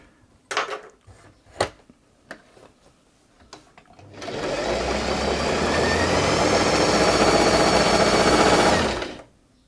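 Singer 328P sewing machine, an Australian-made model being restored, stitching fabric: a few clicks and knocks, then a steady whirring, rattling run of several seconds that stops abruptly, close and loud.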